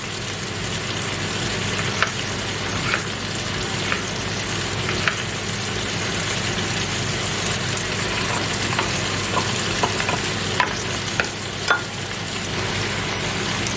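Chicken pieces browning in rendered fat in a pan for poulet basquaise, a steady close sizzle with occasional stirring clicks throughout, no voices.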